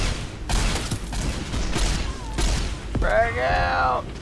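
In a Fallout Brotherhood of Steel mod, a frag grenade blast and gunfire come as several heavy booming impacts and shots in a chaotic firefight, with a voice and electronic warbling sounds near the end.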